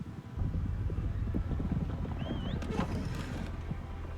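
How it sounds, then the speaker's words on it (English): Horses gallop outside in the video game A Plague Tale, a dense rumbling patter of hooves with wind and faint bird calls mixed in, continuous and fairly close. "there's horses outside galloping"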